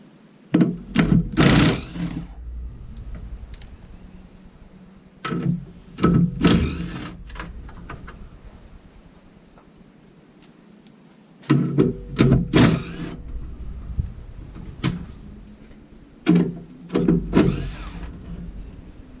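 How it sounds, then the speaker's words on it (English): Impact gun spinning off 10 millimeter bolts during a Road Armor bumper install on a pickup truck, heard as several loud bursts of whirring rattle separated by quiet pauses, close up with no talking. "Got my impact gun and my sockets."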